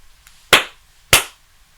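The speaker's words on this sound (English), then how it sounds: "Clap, clap." A clapping sound effect: two sharp, loud claps about half a second apart, each ending cleanly, with nothing else heard.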